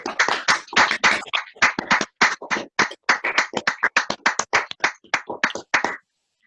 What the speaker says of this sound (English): if you want to unmute to give a round of applause